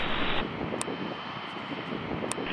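An aircraft takes off from runway 06 with a steady, broad roar that swells briefly at the start and then holds. A few faint clicks sound over the noise.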